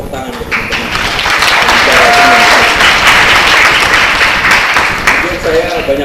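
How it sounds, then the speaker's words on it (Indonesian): Loud audience applause for panel speakers at a youth talk event, sustained crowd clapping that swells and holds, with voices speaking over it at moments. "Tepuk tangan untuk teman-teman."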